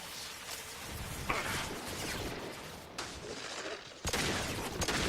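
Shotgun blasts in Mass Effect 2, fired during a squad fight alongside the Krogan Grunt: a few sharp, broad booms stand out over a dense, continuous wash of combat noise, with the loudest bursts landing in the second half.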